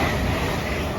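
A Class 350 electric multiple unit runs through Watford Junction station, a steady broadband rumble of wheels and traction close by, continuous and fairly loud with no gaps.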